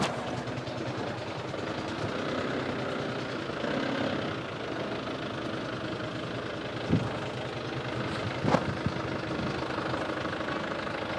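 An idling car engine runs steadily throughout, a low continuous rumble with a couple of faint knocks near the end and no talk over it.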